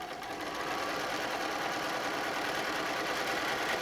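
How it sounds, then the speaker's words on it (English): A sewing machine runs steadily, stitching fabric for a cell phone bag, its fast even mechanical chatter holding a constant level throughout with no voices. "So again, we're going to sew"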